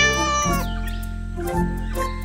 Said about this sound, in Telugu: ఆ తర్వాత అతను ఒక పిల్లిని తీసుకొచ్చాడు